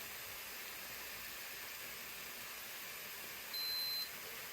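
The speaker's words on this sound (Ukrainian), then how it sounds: "Чи є таймер, якщо щось буде пілікати, чи якщо закінчиться прожарка обсмажена" A Philips 7000 series grill timer gives one short, high beep near the end when cooking finishes, faint over a steady hiss in a quiet kitchen.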